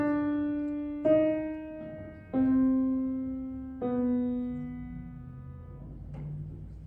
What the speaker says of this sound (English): I'm just going to run to the piano and play it.